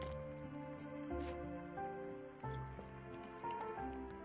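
Rain in the video game Dandelion: Wishes Brought to You, a continuous soft patter running beneath a prominent, steady melodic music track.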